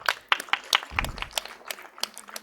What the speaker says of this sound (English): Big round of applause for all the team members.